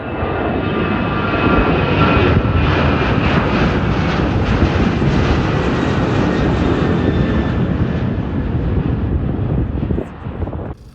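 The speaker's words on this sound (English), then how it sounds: "This is a commercial flight, Alaska Airlines, Everett to San Francisco." A steady, loud engine roar and rushing air fill the cabin of an Alaska Airlines commercial airplane in flight from Everett to San Francisco, droning evenly throughout before easing slightly at the very end.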